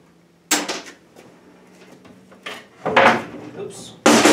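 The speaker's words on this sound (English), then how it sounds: "I should take the drawer front off." Drawer front being removed from a metal filing cabinet, with several sharp metallic clunks and rattles in irregular bursts, separated by quieter handling noises, close by.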